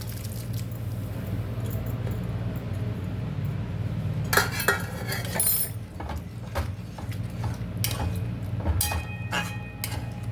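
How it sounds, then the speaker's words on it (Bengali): Boiled chickpea dal going into a pan of fried spices for a vegetarian Bengali cholar dal, with a metal spoon clattering and scraping in irregular bursts, loudest midway, over a steady low background hum. "এবার আমি ওই সেদ্ধ করে রাখা ডালটা আমি এর মধ্যে দিয়ে দেবো।"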